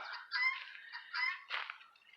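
Farm geese feeding on comfrey give three or four loud, nasal honking calls in quick bursts, close by, with short gaps between them and no talking.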